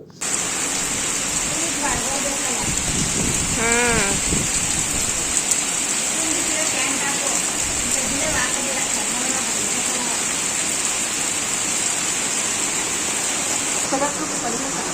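Steady rain hisses throughout, a constant wash of falling water, with voices talking briefly underneath.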